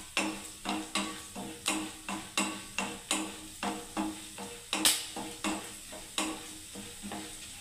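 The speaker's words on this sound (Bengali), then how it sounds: "এবারে ভাজতে থাকবো ছোলার ডালটাকে।" Chana dal frying in oil in a pan, stirred with a spatula in steady rhythmic strokes, about fifteen evenly spaced scrapes and clatters over a soft sizzle, close and moderately quiet, with no talk.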